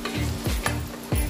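Sliced onions sizzle steadily in a hot pan as a homemade chicken biryani is cooked, with loud, close frying and a few scraping stirs of a spoon breaking through the crackle.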